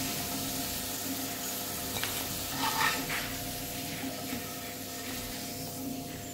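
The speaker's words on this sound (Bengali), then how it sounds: "এবারে খুব ভালোভাবে মিশিয়ে নিয়ে ভেজে নেব আলুগুলো" Potato pieces fry in oil with salt and turmeric, giving a soft, continuous sizzle close by, with a low steady hum underneath and a brief burst of stirring or spattering partway through.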